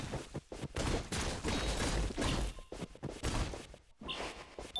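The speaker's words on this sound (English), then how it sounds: "there's a bunch of enemies that will be shooting bullets at you, but I could just deflect the bullets and kill the remaining ones" Enemies fire bullets in the action video game Katana Zero, a dense burst of rapid shots and impacts over a rhythmic game soundtrack, loud and continuous with brief gaps.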